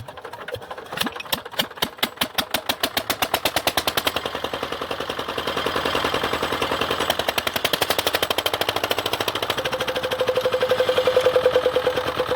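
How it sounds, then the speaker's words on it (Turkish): A single-cylinder patpat irrigation pump engine fires in separate, spaced putts that quicken into a steady, close, rapid chugging beat and hold there without any voices. "Motor bu şekilde çalışıyor."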